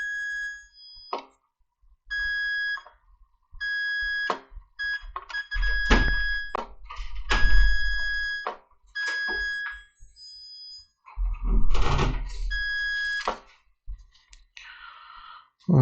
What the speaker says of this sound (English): You hear the beeping. The beeping means the resistors are good.